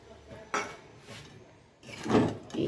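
Tomato egg curry being stirred in a kadai, two rough metallic scrapes close by, separated by a quieter stretch, with no talk.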